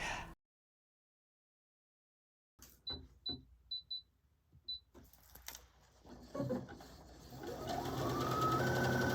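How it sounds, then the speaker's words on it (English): Sewing machine zigzag stitching around a pants hem edge in contrasting thread, with short bursts of stitching separated by pauses, then a longer continuous run building in loudness after a silent start. "I'm just using a zigzag stitch and I'm going all the way around."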